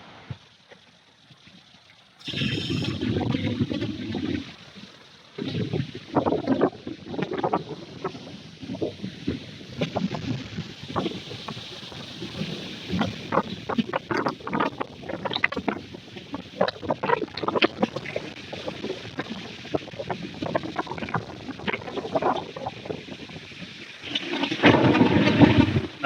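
Loud gusting typhoon wind roars over churning water with heavy crashing and rumbling against a fishing boat, close and continuous for the whole stretch.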